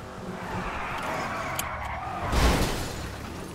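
A car in a GTA roleplay game revs and skids, then hits something with a dull, broad thud about two and a half seconds in, engine drone underneath throughout.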